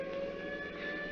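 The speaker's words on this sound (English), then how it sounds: "Hey, that's a police siren." A police siren sounds at close range in a 1949 radio crime drama, a steady sustained wail with a strong unbroken tone, loud and alone with no talk over it.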